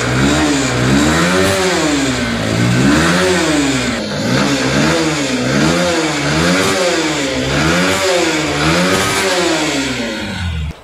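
A Honda motorcycle engine revs up and down in a repeated rhythmic cycle, loud and close for about ten seconds with no talking.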